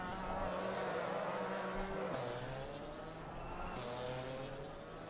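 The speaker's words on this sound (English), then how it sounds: "the cars away for the formation lap" Several GT4 race cars on the formation lap of a racing video game, a steady loud engine drone with gear shifts and shifting pitch running throughout.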